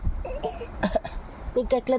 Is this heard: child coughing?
yes